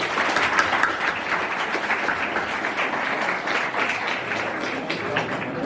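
Steady applause from a large crowd at a school Teachers' Day ceremony, dense and continuous, with many hands clapping at once throughout.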